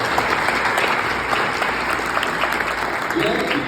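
An audience at a community gathering applauds a city councillor, a dense sustained clatter of many hands clapping close by, steady for the whole stretch with a few voices mixed in.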